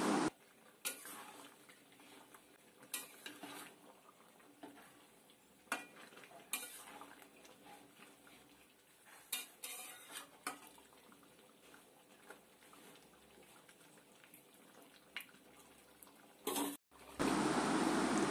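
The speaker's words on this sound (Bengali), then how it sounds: "এবার এইভাবে কষাবো যতক্ষণ না মাংস দিয়ে তেলটা ছাড়ছে" Mutton and potatoes are stirred and fried in a pot as they cook down. A spoon clinks and scrapes against the pot at irregular intervals over a faint background sizzle.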